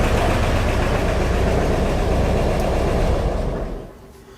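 A Speedster car engine idles steadily with a loud low rumble, then is shut off near the end and the sound quickly fades to near quiet.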